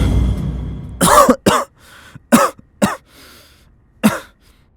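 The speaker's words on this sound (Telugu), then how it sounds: "ఏమేం దగ్గుతున్నావు?" A person coughing in a short series of sharp, close bursts, some paired and some single, separated by brief quiet gaps, with no talking.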